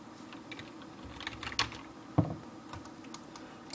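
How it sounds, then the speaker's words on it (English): Light, scattered keystrokes on a computer keyboard in a bedroom, close but soft, with a couple of sharper clicks standing out and no voices. "Sorry, I'm just typing."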